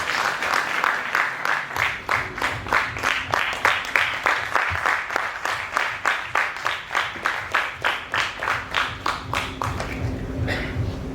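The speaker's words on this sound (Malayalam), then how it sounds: "ഒരു വലിയ കൈയടി കൊടുത്ത് ചേട്ടനെ ഇൻവൈറ്റ് ചെയ്യാം" An audience at a short-film preview show in Kannur applauds to welcome a director onto the stage: a sustained wash of many hands clapping for about ten seconds, loud and close, with a pulsing rhythm before it fades.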